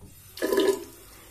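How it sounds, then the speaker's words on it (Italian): Water is poured into a preparation in one short splashing gush lasting under half a second, fairly close and alone against a quiet background. "Aggiungiamo acqua alla preparazione."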